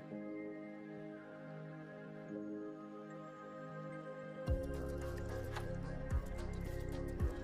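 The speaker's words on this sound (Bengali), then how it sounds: "তেল কিন্তু গরম হয়ে গেছে, এখন আমি বাটাগুলো দিয়ে দেবো, পাতা বাটা এর মধ্যে সম্পূর্ণ দিয়ে দেবো।" Ground kharkol leaf paste drops into hot mustard oil in a wok, starting a loud, sustained sizzle and crackle after a quieter stretch of gentle frying, with a few sharper pops close by.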